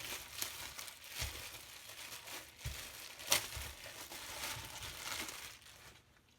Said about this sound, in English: First, what you're going to do is tear open the bag.